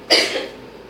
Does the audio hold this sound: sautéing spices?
no